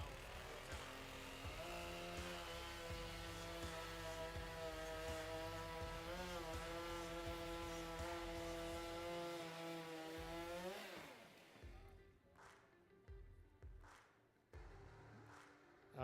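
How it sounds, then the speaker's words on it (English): A hot saw at a STIHL Timbersports Australian Pro Championship event screams at high revs through a log for about eleven seconds, a loud, sustained, pitch-wavering engine whine that then drops away to scattered thumps and handling noise. "You can see the amount of sawdust that these chainsaws produce."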